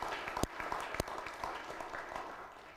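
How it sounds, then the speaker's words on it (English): Church congregation at a Mothering Sunday family service giving a round of applause, a short, fairly faint burst of clapping in a reverberant room that fades out toward the end. "can we give everybody a round of applause first?"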